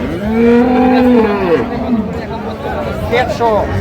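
Cattle at the Khochabari livestock market: one loud, close, drawn-out moo, then a shorter call, set against crowd chatter and nearby voices.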